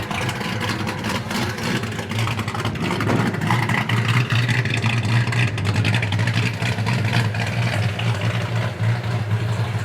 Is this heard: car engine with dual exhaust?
yes